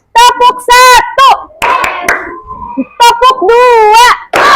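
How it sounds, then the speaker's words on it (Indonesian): Schoolchildren in a classroom do a counting ice-breaker clap: a handful of crisp hand claps scattered between loud chanted children's voices, all close and energetic. "Tepuk satu."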